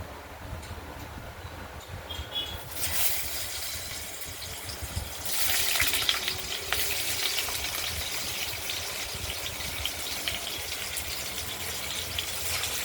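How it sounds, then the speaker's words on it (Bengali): Paneer pieces drop into hot oil and set off louder bursts of sizzling that settle into a constant, fairly close frying hiss with no voices. "তেলটা গরম হয়ে যাওয়ার সঙ্গে সঙ্গে আমরা পনিরের পিসগুলো দিয়ে দিলাম। এগুলোকে একটু ভাজা করে নেব হলুদ হলুদ করে।"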